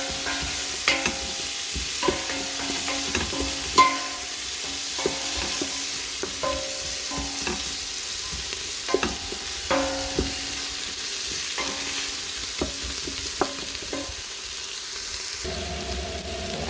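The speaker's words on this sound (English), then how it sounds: "I'm going to soften down the onions and the garlic." Onions and garlic soften in butter in a pan, with leek to follow. A steady close sizzle runs under repeated stirring knocks and scrapes of a spoon over about seventeen seconds, and nobody speaks.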